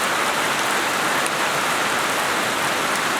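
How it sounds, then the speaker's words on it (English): Steady, dense rain falls and patters on surfaces nearby, a loud, unbroken hiss with no voices over it. "Finally getting some much needed rain."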